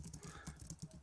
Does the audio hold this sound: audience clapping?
no